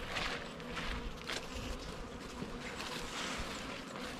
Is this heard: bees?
yes